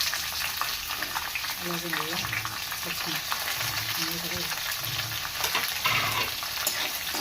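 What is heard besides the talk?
chopped onions frying in a pan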